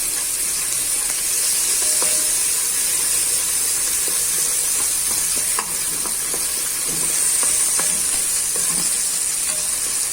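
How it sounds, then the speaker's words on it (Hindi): Garlic and ginger fry in a pan with a continuous bright, hissing sizzle, steam spitting and occasional light clicks of stirring close by, no voices. "थोड़ा सा भून के हम इसमें लहसुन अदरक डाल देंगे। इसको थोड़ा सा भून लेंगे।"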